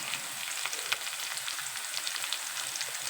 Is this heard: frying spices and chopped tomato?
yes